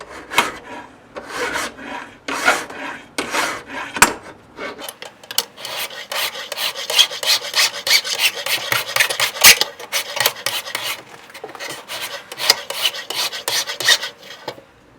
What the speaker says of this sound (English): Didn't really film the filing process because it's just extremely boring and took a long time